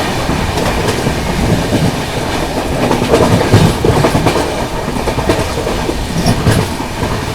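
Duronto Express passenger train, 22209 Mumbai Central–Nizamuddin, races through Nagda Junction at speed, a loud, continuous roar of rolling wheels and clattering rail joints sustained throughout with no voices.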